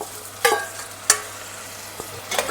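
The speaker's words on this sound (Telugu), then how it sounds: "టమాటా కలుపుకోవాలి" Tomatoes stirred into onions and curry leaves frying in a couple of spoons of oil, with a faint sizzle under three or four distinct spoon scrapes and knocks against the pan, close up and without talk.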